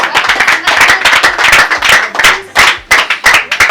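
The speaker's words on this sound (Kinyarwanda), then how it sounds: "Amashyi menshi kuri pasiteri" A congregation claps for a pastor at a gathering, loud close rhythmic handclapping with uneven bursts throughout, a little voice mixed in.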